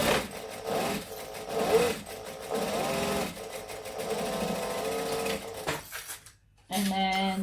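A sewing machine runs steadily, stitching a seam with a 2.5 joining stitch, its motor whirring in long continuous runs with short pauses, then breaking off near the end before resuming.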